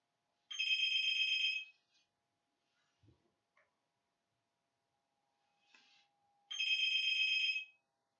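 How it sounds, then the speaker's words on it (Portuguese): A telephone rings in two long electronic bursts about five seconds apart, clear and fairly close, with faint clicks and handling sounds in the quiet gap between them. "tenho que atender mesmo o telefone"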